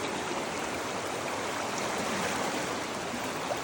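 Water rushes continuously in a back-country mountain trout stream in the Great Smoky Mountains, a dense, even roar of flowing current heard up close with no pauses.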